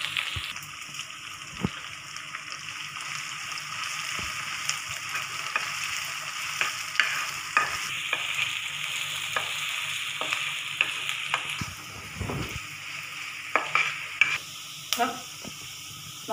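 Onion, curry leaves, ginger and green chili sautéing in a pan, a low continuous sizzle with scattered stirring clicks and scrapes over a long stretch, some faint clatter near the end.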